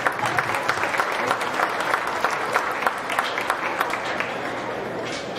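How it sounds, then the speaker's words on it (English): Audience applause in the stands at a county fair swine show, a steady wash of many hands clapping that holds evenly across the whole stretch, with faint crowd murmur underneath. "Give him a good round of applause."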